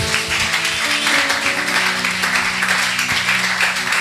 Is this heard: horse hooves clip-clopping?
no